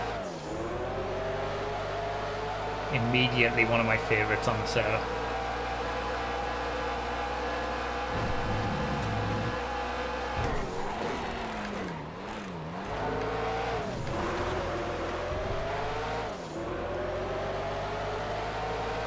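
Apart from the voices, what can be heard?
race car engine revving in video game GTA FiveM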